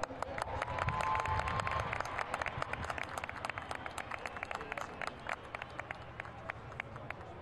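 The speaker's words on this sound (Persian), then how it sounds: "تشویق بکنید تا بیان" A large crowd at a Quran recitation gathering bursts into sustained applause, a dense, steady clapping heard from some distance, with a voice speaking over it.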